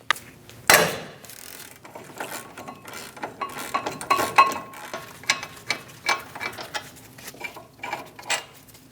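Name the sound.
ratchet with 21mm socket removing brake caliper bolts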